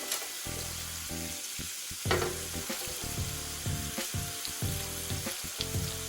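Fries go back into a hot pan and fry with a steady, close sizzle, broken by repeated scraping and stirring strokes, with no talking.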